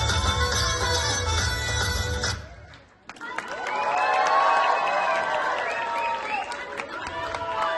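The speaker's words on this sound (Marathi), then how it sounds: "जोरदार टाळ्या होऊ द्या, टाळ्या वाजत राहिल्या पाहिजे" An audience claps and cheers loudly at a children's dance show, a dense sustained burst that dips briefly to near quiet, then swells again. A song plays underneath and a voice calls out over it.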